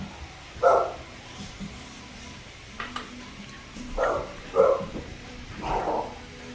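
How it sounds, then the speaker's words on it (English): Dogs barking in the background, several muffled barks in uneven bursts, somewhat distant. "Don't mind the dogs in the back"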